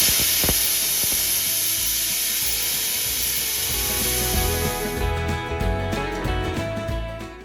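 Pressure cooker hissing loudly with jackfruit, onion and tomato mixture inside, a sustained steamy whistle-like spray that cuts off after about five seconds, followed by clattering and kitchen noises.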